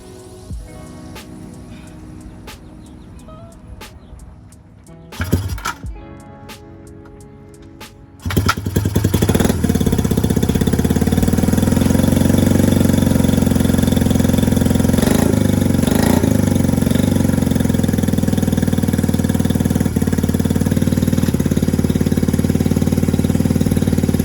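A Honda CB175 motorcycle engine is kicked over a few times with clunks, then fires and settles into a loud, steady running drone close by, with no talking.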